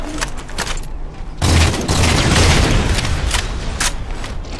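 Rocket fire and explosions in a Halo 4 multiplayer match, a loud burst of blasts and booming impacts rolling into sustained rumbling gunfire, close and dense throughout.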